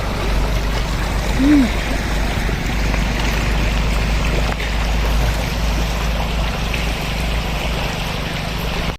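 River water flows steadily at a riverside picnic stopover, a continuous rushing and trickling wash that holds evenly throughout, with a brief voice in the background.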